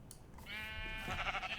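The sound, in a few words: sheep bleating in the video game Minecraft Enigmatica 2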